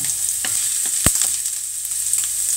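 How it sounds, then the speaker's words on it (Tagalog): Squash is sautéed in a pan for a coconut-milk dish, giving a steady close sizzle broken by a few sharp clinks and scrapes as it is stirred, with no voices. "So ngayon magigisa na tayo ng bongga."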